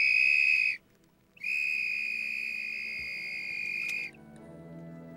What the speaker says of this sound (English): The whistle is 3 to 5 times louder than the human voice.